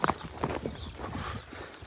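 A horse runs nearby, its hooves clip-clopping in a quick, uneven rhythm, moderately loud with outdoor background noise.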